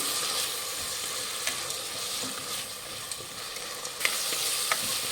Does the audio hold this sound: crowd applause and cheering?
no